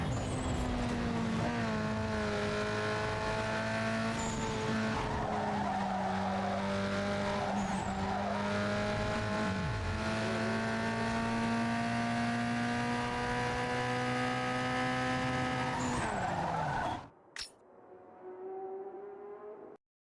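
Race cars in Need for Speed Underground 2 roar in a steady, loud engine drone with shifting pitch and tire noise, cutting off near the end to quieter game sounds.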